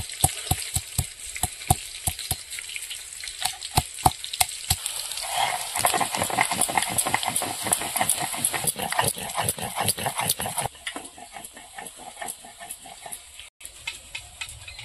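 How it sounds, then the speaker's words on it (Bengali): Food fries in oil in a pan as steady close sizzling and crackling, cut through by a long run of regular sharp taps from a utensil against the pan that stops near the end. "বাকিগুলো ভেজে নেব।"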